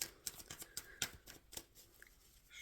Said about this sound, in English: Shuffling for Virgo.